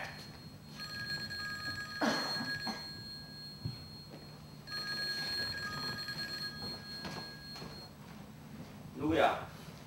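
A telephone rings in repeated bursts on a theatre stage during a live play, with actors' voices and room noise mixed around the rings.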